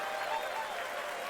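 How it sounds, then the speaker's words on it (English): Brief, faint applause from a small audience at a late-night show, a soft patter of clapping hands with no voices over it. "Round of applause, please, for Carl."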